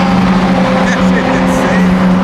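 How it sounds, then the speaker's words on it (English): A Ferrari F8 on the move: a steady, loud engine drone with a sustained tonal hum from inside the car, constant and unbroken for a couple of seconds. "these F8s might be my new favorite Ferrari"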